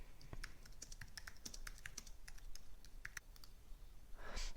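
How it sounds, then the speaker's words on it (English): Quiet, uneven tapping of keys on a computer keyboard as a message is typed, with clicks coming in short clusters and a brief rustle at the end, with no talking. "So you can type a message in here,"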